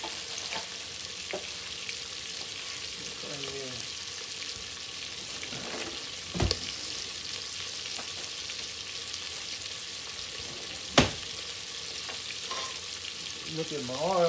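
Hot oil frying steadily in a pan while cooking cabbage with Italian sausage, a continuous close sizzle with a few sharp pops and crackles breaking through, and no voices.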